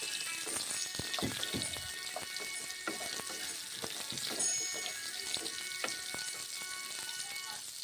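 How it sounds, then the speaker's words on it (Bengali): Papaya pieces fry in hot oil with black cumin, giving a continuous dense sizzle with crackling pops and occasional stirring scrapes, steady and close with no voices. "পেঁপেগুলো ভেজে নিচ্ছি গরম তেলের সঙ্গে"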